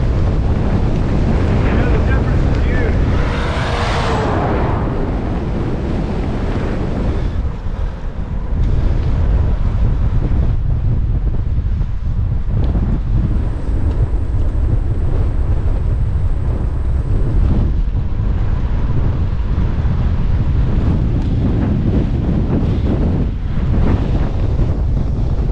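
Strong wind buffets the microphone steadily while cyclists are bicycle touring on a road, a continuous loud roar that fills the whole clip, with occasional faint voices underneath.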